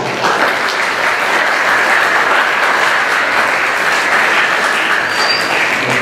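Sustained applause from a crowd at a school winter concert, loud and steady from start to finish, with no voices rising above the clapping.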